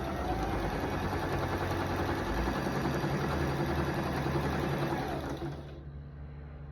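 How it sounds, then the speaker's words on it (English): A sewing machine stitches a quarter-inch quilt seam, running with a steady, even mechanical whir for several seconds before abruptly stopping and leaving a faint residual hum. "Then I'm going to sew a 1/4 inch seam down this side"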